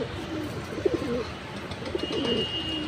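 Silver Khaki Bagha pigeons coo softly in low, throaty bursts, two rounds of cooing close by over a faint background hiss.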